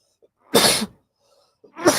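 A smoker coughs hard in two separate bursts, the first a full harsh hack and the second starting just at the end, with near silence in between.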